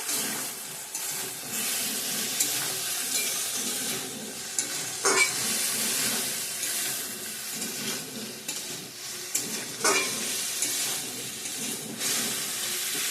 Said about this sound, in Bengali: জল দিয়ে দিয়ে দিলাম ভালো করে কষিয়ে নেব আবারও